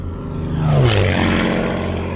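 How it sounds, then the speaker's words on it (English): A P-51 Mustang, the World War II propeller fighter, roars past loudly, its engine pitch sliding downward as it passes overhead and leaving a sustained drone behind. "the P-51 Mustang, was developed as a long-range fighter escort to U.S. and Allied bomber squadrons"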